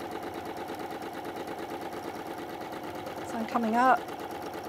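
A sewing machine hums steadily, sewing side to side around a cushion, with a voice talking over the close, even stitching.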